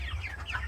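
A farm chicken gives a short, soft cluck over a low background hum.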